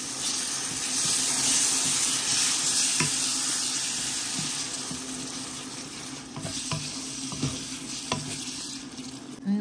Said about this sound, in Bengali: পেঁয়াজটাও ভাজি নিলাম, পেঁয়াজটা একটু ভালো মতো ভাজি নিলাম, পুরো রসুন বাটা দিয়ে দিলাম, দিলাম টমেটো